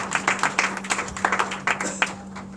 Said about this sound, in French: Est-ce qu'on peut applaudir pour ce monsieur qui m'a complété si brillamment?